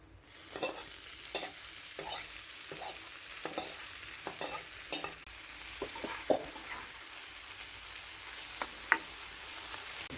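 Boiled cham grass fries in a pan for a Bengali bhorta, a steady soft sizzle with repeated scraping stirs from a spatula, close and continuous, with no voices.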